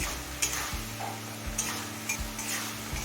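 Dal masala with salt and a little water is stirred and fried over a medium flame for a vegetable paneer dal, a close, constant sizzle punctuated by repeated spatula scrapes and taps, with no voices.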